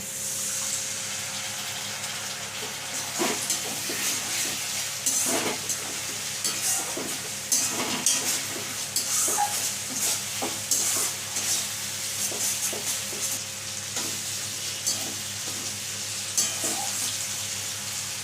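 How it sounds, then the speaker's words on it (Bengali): Jackfruit kofta curry spice paste being fried with a splash of water in a pan, giving a steady wet hiss with scraping and clattering stirring strokes throughout, close and continuous. "মশলাটা ভালো মতন কষা হয়ে গেছে। সামান্য একটু জল দিয়ে আর একটু কষিয়ে নিচ্ছি।"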